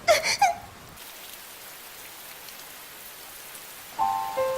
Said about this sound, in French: Cette pluie, les trottoirs mouillés